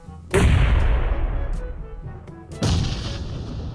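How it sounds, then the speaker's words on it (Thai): Explosions boom in PUBG Mobile during a squad battle, two heavy close blasts about two seconds apart, each striking hard and rumbling off in a long decaying roar. "ระเบิดมาอีก"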